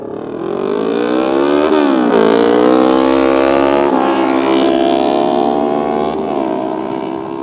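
A 3.5 engine at a car meet revs loudly through its whole RPM range, climbing and falling in several sweeping surges, with no pauses between pulls.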